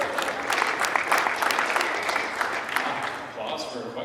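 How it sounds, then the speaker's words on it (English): An audience at a disc golf party applauding after a question, with dense clapping that fades toward the end, and voices mixed into the crowd noise. "Applause for a question."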